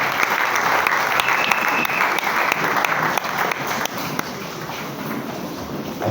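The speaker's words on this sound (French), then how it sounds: "Est-ce qu'on peut acclamer le Seigneur?" A church congregation applauds continuously for several seconds, with a dense, even clapping that fills the room and fades a little toward the end.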